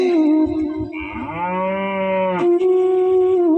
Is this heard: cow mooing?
yes